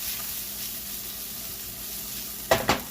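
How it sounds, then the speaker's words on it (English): Leftover steak fries in a pan for a keto broccoli stir fry, a steady close sizzling hiss that ends in two sharp stirring scrapes, no voices. "now it's time to throw in the leftover steak. Fry that around a little bit"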